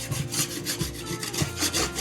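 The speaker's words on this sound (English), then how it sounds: "Just going to kind of scrape it down." A scraper drags over patched drywall, shaving off excess patch compound in repeated rough rasping strokes, close and steady with no talk.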